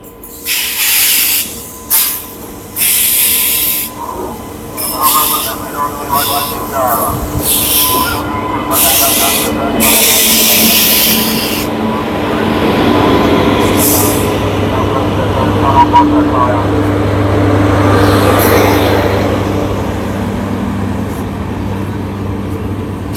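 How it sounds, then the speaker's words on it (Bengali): The Sairang Kolkata Express pulls into platform 6 at Azimganj with bursts of hissing brake air at the start, followed by a long, low rolling rumble of coaches, and some voices nearby. "আজকে 14 সেপ্টেম্বর ট্রেন আসছে আজিমগঞ্জের 6 নম্বর প্ল্যাটফর্মে"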